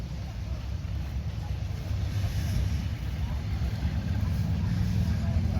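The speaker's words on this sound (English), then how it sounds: "Another crawler, track tractor." A crawler track tractor at a Red Power tractor show drives past with a loud, steady engine rumble and clatter that holds for several seconds and swells slightly toward the end, with wind-like noise over the recording.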